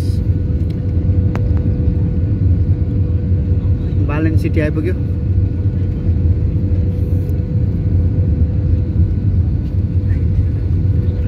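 Inside a Nepal Airlines plane landing at Kathmandu, a loud, steady low cabin drone rumbles without pause, and a voice speaks briefly partway through.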